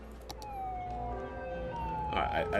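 Wailing ambulance siren from a Cities Skylines city-building game, a steady sweeping electronic tone that holds level through the clip, with game ambience and a brief burst of noise near the end.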